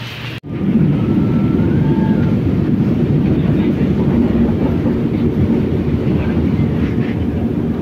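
An MRT train in Manila rumbles past close by, loud and steady throughout, with a brief sharp click at the start and a faint squeal early on.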